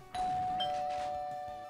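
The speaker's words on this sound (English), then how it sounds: "If you want to get in, you better ring the doorbell." A doorbell rings once at a base door in the video game Team Fortress Classic, a clear electronic ding-dong chime sustaining and fading, heard alone.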